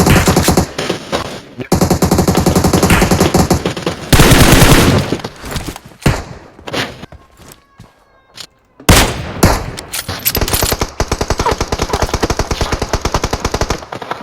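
Dense bursts of automatic gunfire in the mobile battle-royale game PUBG Mobile, loud and rapid with sustained sprays, a brief lull midway, then heavy shooting resuming.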